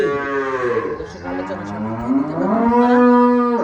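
An Indian dairy cow at a farm near the Satkhira border lets out long, loud, close moos, one drawn-out call rising again toward the end.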